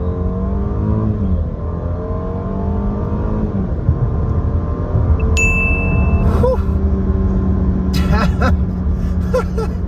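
A 2019 Jaguar XF Portfolio sedan in sport mode pulls hard on a motorway, its engine note rising through steady revs and gear changes under continuous road and cabin noise, with a brief chime and a few clicks partway through.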